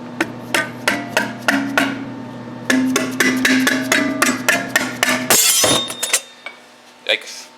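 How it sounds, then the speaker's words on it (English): Sharp metal hammer blows strike a jammed blade on a cutter in a workshop, a rapid series of about a dozen ringing impacts at close range. They end in a loud metallic crack followed by a couple of lighter taps. "Let's see if I can hammer this thing off."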